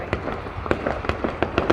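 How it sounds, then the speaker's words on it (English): Fireworks bursting during a 2021 celebration, a series of sharp pops and bangs at irregular intervals, some nearer and louder, others distant, over a faint background hum. "Those are fireworks, love."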